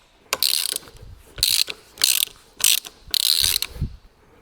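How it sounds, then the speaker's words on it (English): A socket ratchet tightens bolts on a 110cc semi-auto racing pit bike, clicking in four quick bursts of rapid pawl ratcheting separated by short pauses, loud and close with no talking. "then I use a socket just to make sure that they're nice and tight"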